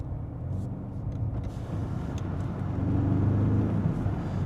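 BMW G90 M5 fitted with a DCE Parts catback exhaust, OPF delete and X-pipe, its valves open, giving a deep steady rumble that swells louder toward the end as the car moves, with no talk.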